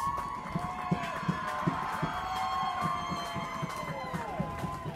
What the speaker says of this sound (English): listen to the crowd go crazy